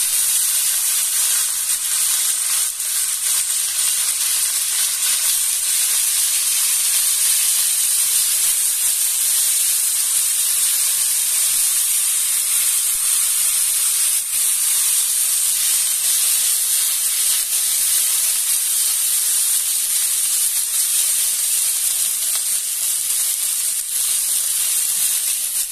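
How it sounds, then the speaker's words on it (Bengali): Cauliflower frying in a wok over a village kitchen fire: a continuous bright, dense hiss and sizzle of hot oil holding steady and close throughout, with no talk. "এবার ফুলকপিটা ভাজবো"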